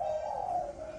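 A Malaysian spotted dove kept as a decoy bird gives a single low, steady coo, close and clear, lasting about a second.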